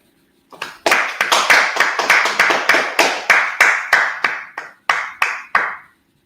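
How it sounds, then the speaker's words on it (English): Hand clapping by a small group, a rhythmic series of about twenty close sharp claps in a steady beat with a few quicker doubled hits, stopping after several seconds. "Clap it up."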